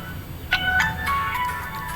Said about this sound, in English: There's somebody trying to call me,